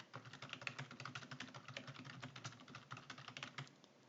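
Steady run of computer keyboard typing while entering data into an Excel spreadsheet, dense rapid keystrokes close and moderately loud, continuing throughout with no talk.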